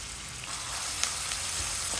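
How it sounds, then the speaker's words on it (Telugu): Two large onions sizzle steadily in hot oil in a pan, a continuous bright crackling hiss with small pops, close and alone without talk. "లైట్ బ్రౌన్ కలర్ వచ్చే వరకు వేయించుదాము"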